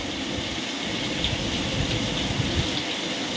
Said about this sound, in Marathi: डोंगर पण काही दिसत नाही, एवढा पाऊस पडतोय